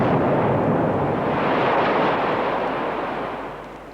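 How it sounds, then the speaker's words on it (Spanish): Georg Elser's bomb going off inside the Bürgerbräukeller beer hall in Munich: a single massive roaring blast that fills the space and slowly fades over several seconds, heard alone with no voices. "explota la bomba de Elser"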